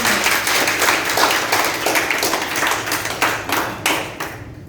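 An outdoor gathering honouring pandemic frontline workers at a tree-planting event breaks into enthusiastic clapping, a close, loud patter of many hands with a few sharper individual claps near the end before it fades.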